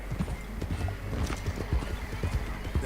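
Horse hooves clip-clop steadily while riding in Red Dead Redemption 2, a close, continuous rhythmic trot with a brief whinny among the dense beats and no speech over it.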